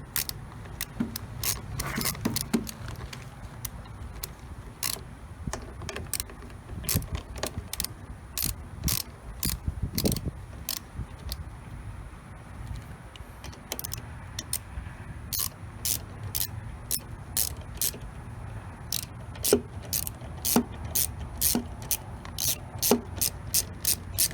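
A ratchet with a 10 mm socket clicks in quick bursts while loosening the spark plug on a Toro lawnmower, with pauses between strokes against a quiet background.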